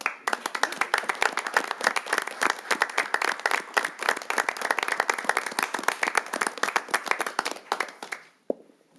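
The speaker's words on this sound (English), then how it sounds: "you'll at least stand and accept a round of applause" A round of applause at a city council meeting, many hands clapping in a brisk, steady patter for about eight seconds before tapering off abruptly near the end.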